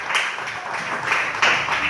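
A church congregation applauding, a dense wash of clapping hands rising and falling in waves for a couple of seconds, moderately loud and close.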